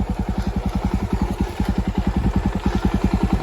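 A Jawa 42 Bobber motorcycle engine runs at idle close up, a loud, even, rapid thumping beat that holds steady throughout with no talk.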